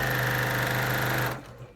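A sewing machine runs fast and steady, its loud close motor whir and rapid needle rhythm stitching t-shirt quilt rows before stopping abruptly.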